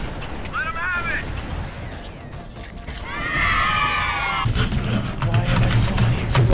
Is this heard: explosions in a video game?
yes